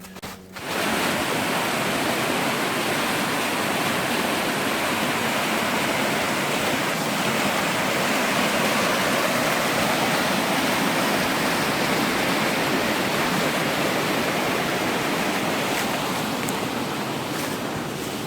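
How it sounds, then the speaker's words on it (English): Water cascading through a narrow rock slot in a nature preserve in Hickory Nut Gorge, North Carolina, a loud, continuous rushing roar that stays steady throughout. "I did find that pretty cool cascade through a little slot"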